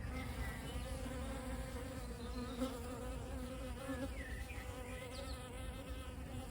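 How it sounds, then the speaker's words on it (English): Bees buzz without pause around a small neglected garden pond on an allotment, a dense, steady drone with individual insects passing close now and then. "My neglected little pond has been a favorite of the bees this season. It is constantly buzzing."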